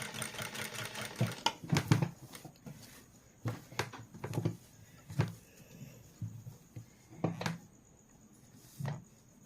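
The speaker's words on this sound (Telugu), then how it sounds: "ఇదిలా కుట్టు మీద కుట్టు స్టిచ్ వేసేసుకుంటే స్ట్రాంగ్గా ఉంటుంది" A domestic sewing machine stitching blouse sleeves runs in short bursts, about eight separate runs of stitching with brief pauses between them, close and moderately loud with no voices.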